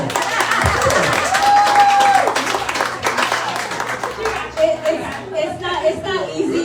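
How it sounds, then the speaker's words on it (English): Audience clapping at a podcasters' event, a mix of handclaps with chatter and a voice mixed in, moderately loud and steady throughout. "You can clap for that."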